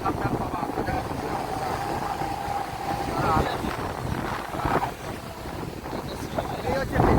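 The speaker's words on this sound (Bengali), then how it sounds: "তোমার সমুদ্রের ঢেউ, উত্তাল সমুদ্র।" Rough sea waves crash at Fraserganj beach in stormy, rainy weather. A continuous roar of surf mixes with strong wind buffeting the microphone, and voices sound faintly underneath.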